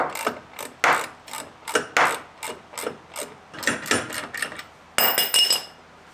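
A hand ratchet tightening a bolt clicks in steady repeated bursts, close by, each stroke a rapid run of metallic clicks, then a brief faster series at the end.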